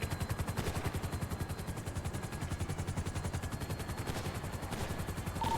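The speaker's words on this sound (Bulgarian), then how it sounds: "Два там да хеликоптера ги стрелят" Helicopters in a video game fire their guns in a rapid, evenly pulsing automatic burst that runs steadily throughout, loud and continuous, with no talking.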